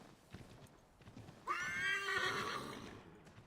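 A horse in the video game Assassin's Creed 3 lets out a loud, drawn-out whinny after a few faint hoof clops, and the neigh fades slowly over about two seconds.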